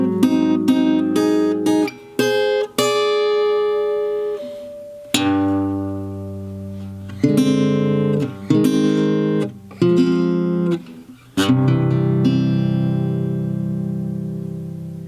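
Slow acoustic guitar rendition of the lullaby from Disney's Coco, section E, with plucked notes and strummed chords ringing out in separate phrases, several clear pauses between them, played alone without talk.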